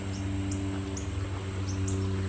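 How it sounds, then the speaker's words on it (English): Faint, brief bird chirps sound out a few times over a steady outdoor hum and buzzing background. "You guys can hear all the birds."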